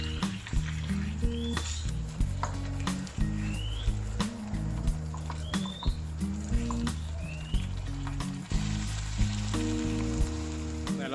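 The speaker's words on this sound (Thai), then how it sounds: "ผัดรวนเนื้อมาได้สักพักนึงแล้วนะครับ" Beef shank stir-fried for a Thai red curry sizzles steadily in the pan, with soft stirring scrapes, all under prominent background music.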